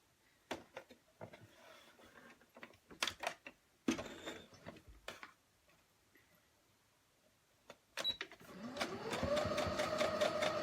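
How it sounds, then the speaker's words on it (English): A home sewing machine stitching along zipper tape for quilt binding, starting with scattered ticks and clicks, then running in a steady, fairly close mechanical whir toward the end. "I'm going to sew along the zipper tape, not up high here where this hangs out, just along the tape."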